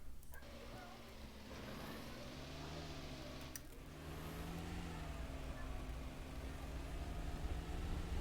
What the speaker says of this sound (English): The engine sound could definitely be louder.